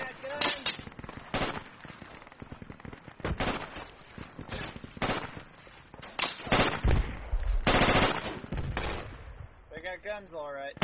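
Gunfire crackles through a Project Reality military shooter match, bursts of rapid automatic fire and single shots at varied distances, some loud and close, others distant, mixed with shouted player voices.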